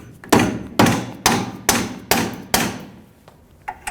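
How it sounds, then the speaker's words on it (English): A soft face hammer strikes a bolt during a rear CV axle assembly replacement on a 2003-2008 Honda Pilot, landing six firm, evenly spaced thuds that each ring out briefly and are heard alone. "We're going to hit the bolt with a soft face hammer"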